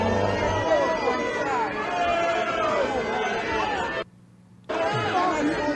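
An audience answers a speech calling for de-escalation of violence with loud, overlapping murmuring and chatter. The sound cuts out briefly near the end, then resumes.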